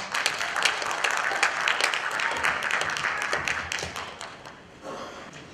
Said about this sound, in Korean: 여러분 큰 박수로 함께 하겠습니다